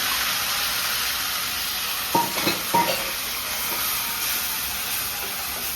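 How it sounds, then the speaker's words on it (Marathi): Coarsely ground onion hits a pan of sautéed garlic for a homemade pizza sauce, giving a steady, loud sizzling hiss with a few brief stirring scrapes near the middle, no voices. "आता यामध्ये आपण हा जाडसर वाटलेला कांदा घालून घेऊया."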